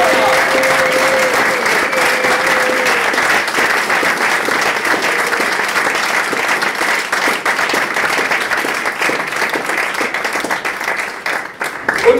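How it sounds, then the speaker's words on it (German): Thunderous applause from a large crowd at a civic reception honouring a ski world champion in Schwäbisch Gmünd, dense clapping sustained loudly throughout, easing slightly near the end. "den ganz, ganz donnernden Applaus"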